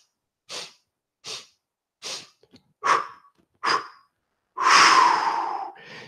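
Slow rhythmic breaths during a qi gong exercise: five short, separate airy breaths at a steady pace, then one long, louder sustained exhale or inhale. Up close and with nothing else underneath.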